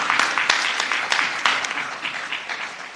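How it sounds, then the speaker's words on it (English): A symposium audience claps for a few seconds, the applause close and lively at first, then gradually thinning and fading. "Another round of applause"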